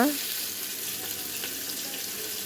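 Fish frying in a pan, a continuous hissing sizzle that stays even and close for the whole stretch, with no one talking.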